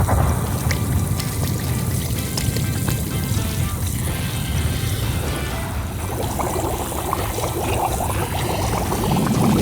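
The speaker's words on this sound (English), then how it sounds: "All we need to do now is pour some soda in." Soda pours onto mints in a steady, close, fizzing trickle and gush of liquid that runs unbroken for the full stretch, with no talking.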